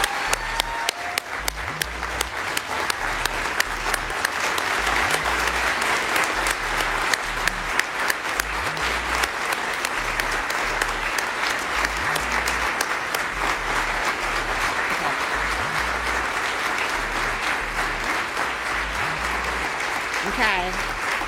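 A large audience applauds honorees at a human rights defenders awards ceremony, a sustained dense roar of clapping that holds steady and loud for the whole stretch with no talk over it.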